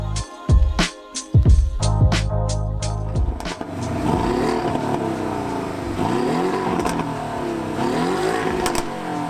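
A 400bhp Porsche Cayman pulls away: a few loud, close revs and bumps at first, then a sustained engine note that rises and falls through the gears as the car accelerates, heard from inside.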